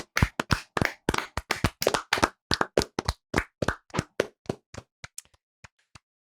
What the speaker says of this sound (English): can we hit the applause for that?